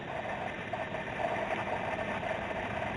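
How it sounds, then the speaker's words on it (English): A ratchet loosens a 12mm nut below the alternator on a 1994 Honda Accord LX, giving steady close clicking with continuous mechanical noise throughout. "So you can remove the 12mm nut that's"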